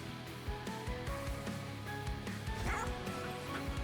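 The Bone Dog unit in the video game Monster Train 2 barks in a few short, repeated yips over busy, steady game music.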